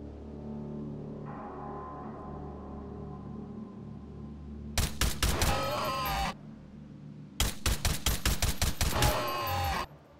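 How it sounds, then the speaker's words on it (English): An automatic turret firing in the VR game Hot Dogs, Horseshoes & Hand Grenades: two loud, rapid bursts of close gunfire, the second longer with about a dozen evenly spaced shots, set over a low droning hum and with no talk. "Is that a turret? There's a turret right there."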